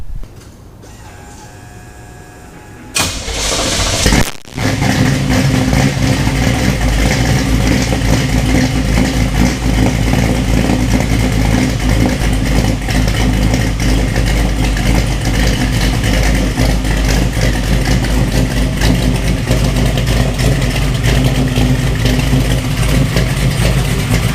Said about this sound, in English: we probably need to do a startup and just pull it back a little bit